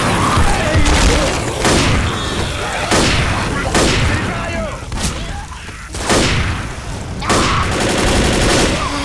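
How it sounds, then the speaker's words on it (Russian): Grenade blasts and heavy gunfire in the zombie shooter game Left 4 Dead: repeated loud booms about every one to two seconds over a dense, continuous rattle of shots, with no let-up. "Граната!"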